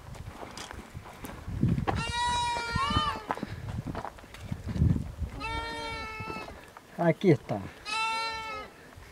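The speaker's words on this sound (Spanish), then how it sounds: "Ya están balando los cabritos." Young goat kids bleat loudly in several drawn-out, wavering calls, close to the listener, with someone speaking briefly between them and some rustling movement.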